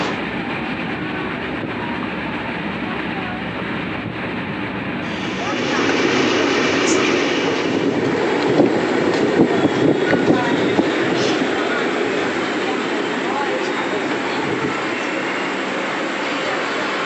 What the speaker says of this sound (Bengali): 13145 কলকাতা রাধিকাপুর এক্সপ্রেস এই মুহূর্তে এসে দাঁড়িয়েছে পূর্ব বর্ধমানের কাটোয়া জংশনে